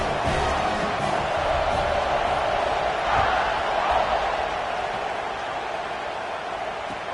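Stadium crowd noise at kickoff in the college football video game NCAA 26, a loud, steady roar that swells briefly midway and stays constant throughout.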